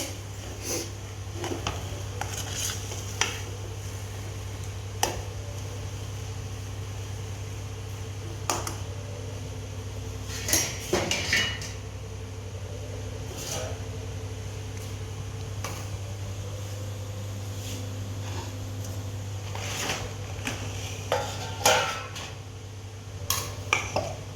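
A potato and semolina breakfast mix is scraped from a pan onto a plate with the flame off, giving sporadic metallic scrapes and clinks over a low, steady hum in a quiet kitchen.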